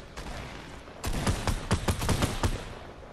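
Video game gunfire from the shooter Anthem, a rapid burst of about eight punchy shots over roughly a second and a half, preceded by a couple of faint isolated pops, with no talk.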